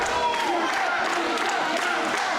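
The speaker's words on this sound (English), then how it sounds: "Notches are firing this crowd up." A wrestling crowd at a New York Championship Wrestling show cheers and applauds steadily, a dense continuous roar of voices and clapping throughout.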